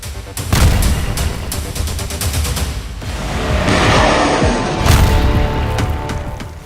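Israeli airstrikes on militia fighters in Syria: repeated sharp missile blasts and heavy booms, close and loud, with rumbling and crackling between the hits.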